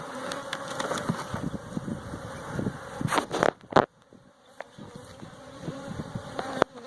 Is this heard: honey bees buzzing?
yes